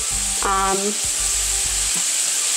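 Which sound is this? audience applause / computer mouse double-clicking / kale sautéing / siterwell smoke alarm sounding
kale sautéing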